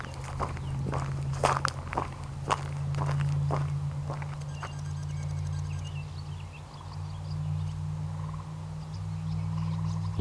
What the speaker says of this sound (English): I can hear gray tree frogs all around me.